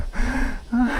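A mountain biker breathes heavily after riding a jump line: two quick, hard breaths, close and loud.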